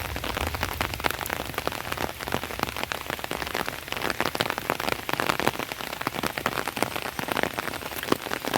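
Steady rain pours down over farm fields and a paved rural road, a dense, continuous patter of drops striking surfaces close by with no voices.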